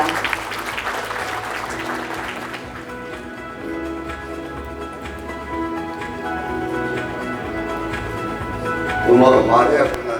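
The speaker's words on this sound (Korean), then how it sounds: "박수로 맞아주시기 바랍니다." An audience applauds at the opening of a garden expo, the clapping loud at first and thinning after a few seconds, then continuing more quietly under music, with a voice rising near the end.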